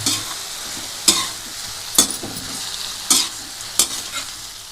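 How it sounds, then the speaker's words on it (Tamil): A spinach mixture with salt is stirred in a pan, soft sizzling underneath with five sharp, evenly spaced scrapes of a spoon against the metal, close by and without voices. "இப்போ நல்லா மிக்ஸ் பண்ணிக்கங்க"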